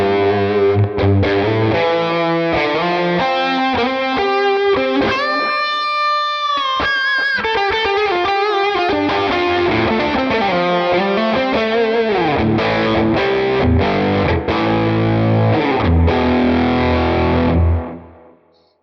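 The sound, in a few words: distorted electric guitar through Quad Cortex amp plugin, gain raised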